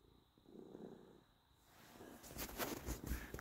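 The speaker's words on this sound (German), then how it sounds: "Grunzt du, meine kleine Katze?" A pet cat makes a soft, low purring, snorting rumble close to the microphone, faint at first and then louder and rougher toward the end, with no voices over it.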